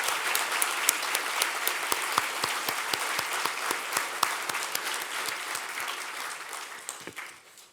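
Sustained audience applause at the James W Foley Freedom Awards ceremony, dense clapping filling the hall at steady loudness before tapering off at the end.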